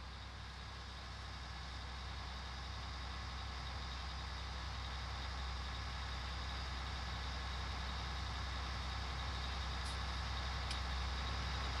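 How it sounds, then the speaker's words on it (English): Steady, fairly quiet diesel engine of a combine harvester in the Farming Simulator 19 video game, a continuous low idling drone that holds level throughout without change. "It's got a nice, fairly quiet diesel engine in it."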